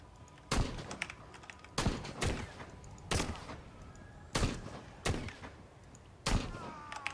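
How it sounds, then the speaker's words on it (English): Loud gunshots from the video game Nether ring out as six sharp, separate reports spaced roughly a second apart, with no talking between them. "Someone's just shooting."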